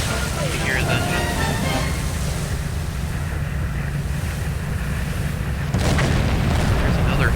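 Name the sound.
torpedo hit explosion on ship in Silent Hunter 4 video game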